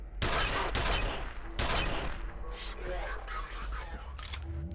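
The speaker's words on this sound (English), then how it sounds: "I'm gonna fire 5 more rounds out of this thing." A weapon fires in the video game F.E.A.R. Perseus Mandate, with several loud, sharp shots spaced apart and later smaller clicks, while someone talks throughout.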